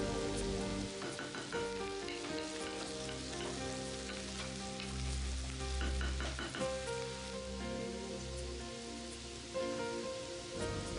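Sliced bitter gourd (karela) fries in a pan, a steady close crackling sizzle with occasional stirring scrapes, continuing evenly throughout.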